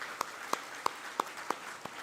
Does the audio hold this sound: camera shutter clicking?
no